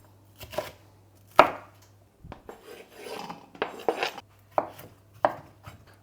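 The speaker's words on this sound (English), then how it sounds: "Just cut it roughly. It's vegetables, Sam." Vegetables being roughly chopped with a knife on a board for a healthy lasagna, a close, irregular series of sharp knocks and cuts spread over six seconds, with no talking.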